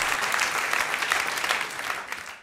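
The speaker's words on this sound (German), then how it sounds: "Ein Applaus für Erik" Poetry slam audience applauds a performer taking the stage, a steady, moderately distant burst of many hands clapping that tapers slightly at the close.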